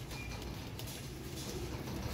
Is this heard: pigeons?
yes